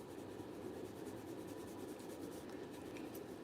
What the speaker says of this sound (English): Just making sure that the shading goes into the fur.